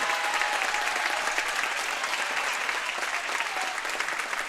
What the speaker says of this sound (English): And I would like to have folks give a round of applause to our coaches this season.